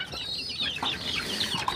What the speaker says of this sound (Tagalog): Mga manok magkakagulo-gulo na sila dito.